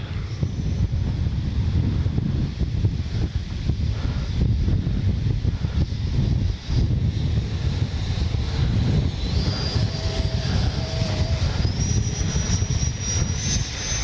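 An Arrows Red Hawk 50mm electric ducted-fan RC jet flies on a windy day: a steady loud roar of wind buffeting the microphone, with a faint rising fan whine that comes and goes above it.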